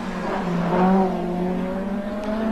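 Race car engines from the 1980 AF2 Championship roar loudly through Tirana corner, one car closely tucked behind another, the engine pitch sliding and sustained with a brief tire squeal.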